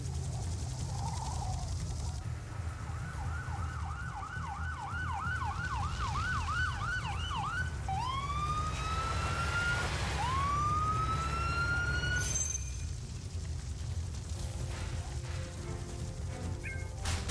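Ambulance siren in the Urban Chaos video game, a wailing tone that rises and falls, then shifts into rising whoops, sounding steadily over a low rumbling background with no talk.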